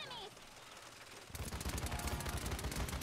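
Gunfire in the hero shooter Paladins breaks out after a quiet second, a sustained rapid stream of loud shots with a steady rhythm continuing to the end, following faint background game sounds.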